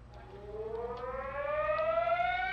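A civil defense emergency alert siren wails steadily, its tone slowly rising in pitch over a low rumbling background, heard at a distance with no voices.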